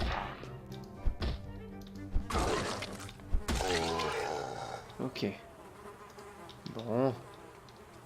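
Flies buzz in the Project Zomboid video game, a wavering insect drone with swooping passes that rise and fall, mixed with scattered game sounds and clicks at moderate loudness.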